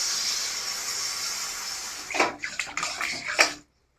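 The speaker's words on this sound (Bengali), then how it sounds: "আমি এখন জল দিয়ে দিচ্ছি।" Water is poured into a hot pan of fried vegetables and spice paste for a pumpkin-greens curry with fish head. A steady hiss gives way to a few sharp splashing bursts, then the sound stops.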